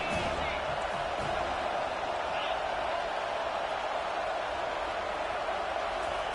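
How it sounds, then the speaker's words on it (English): A stadium crowd at a college football game keeps up a steady, dense roar throughout, with a commentator talking over it. "This crowd bringing the energy and noise early."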